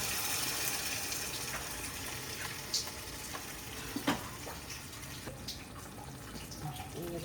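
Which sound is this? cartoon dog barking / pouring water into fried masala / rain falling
pouring water into fried masala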